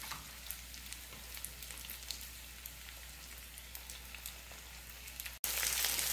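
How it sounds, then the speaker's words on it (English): Meat for stroganoff fries on a stove at maximum heat with a loud, steady crackling sizzle up close, then jumps sharply louder near the end. "We will fry it for 3, maybe 4 minutes maximum."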